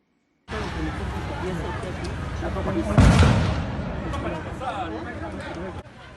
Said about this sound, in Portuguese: Nuvens de fumo são o resultado de tiros de dispersão efetuados para o ar.